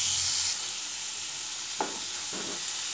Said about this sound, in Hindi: प्याज शिमला मिर्च का सब्ज़ी उसे मैं मिला दूँगी, गैस को लो टू मीडियम फ्लेम पर रखूँगी।